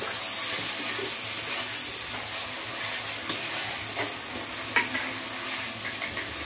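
Mutton curry with turmeric being stirred by spatula in a pan, a steady sizzle and frying hiss under scattered scraping clicks, continuous and close, with no talk.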